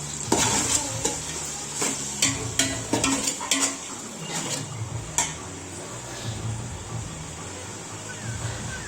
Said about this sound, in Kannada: ನಂತರ ಟೊಮೊಟೊವನ್ನು ಒಂದು ಸ್ವಲ್ಪ ಫ್ರೈ ಆಗೋ ತನಕ ಕೈ ಆಡಿಸ್ಕೊತಾ ಇದ್ದೀನಿ